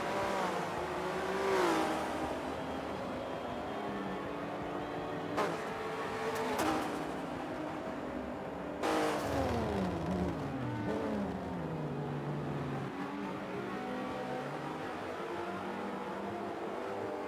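Several race car engines in the ORLSA S-Pro Swarts Exotic GT sim racing series roar continuously, with rising and falling pitch sweeps as they rev and shift, sounding close and steady with no talk over them.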